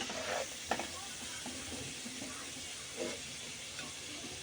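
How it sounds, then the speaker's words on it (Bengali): Prawns fry gently in hot oil in a pan for a prawn pulao, giving a soft, steady sizzle with a few faint stirring knocks, quiet and without talk. "সিঙ্গি মাছ তেলের উপর দিয়ে দিলাম হালকা হালকা ভেজে নেবো দুই মিনিটের মতো"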